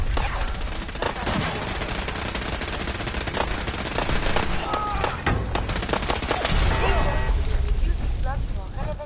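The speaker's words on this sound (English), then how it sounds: "We are being shot at." Rapid automatic gunfire and single shots crackle without a pause in Fallout 4, loud and close, with a voice speaking over the shooting.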